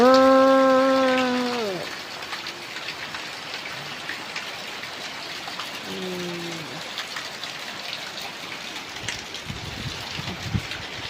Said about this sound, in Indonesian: Tuh hujannya deras banget ya.